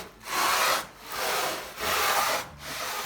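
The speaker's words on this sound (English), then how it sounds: "we need to keep sanding until all of those are gone" An Audi/VW 1.8T AEB cylinder head surface being sanded flat by hand: four long, even back-and-forth abrasive strokes, a close, loud rasping hiss with brief pauses between strokes, no voices.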